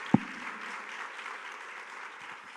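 A church congregation applauds during a Portuguese-language sermon, a faint, distant wash of clapping that holds steady, with one sharp close tap near the start.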